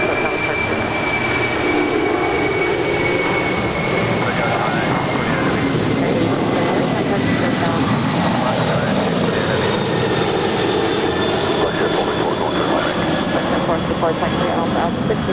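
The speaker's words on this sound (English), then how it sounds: "That is Atlas Air 8628 departing to Anchorage. It's a 25-year-old 747-400 freighter." A 25-year-old Atlas Air Boeing 747-400 freighter departs Los Angeles International Airport for Anchorage, its jet engines producing a loud, steady roar with high whining tones that holds unbroken for the whole stretch.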